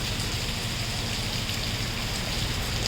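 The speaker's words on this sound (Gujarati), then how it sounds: "તો અત્યારે વરસાદ પૂર જોશમાં આવે છે." Heavy rain falling at Mahabaleshwar, a dense continuous hiss of downpour close by, steady and even in loudness with no pauses or voices.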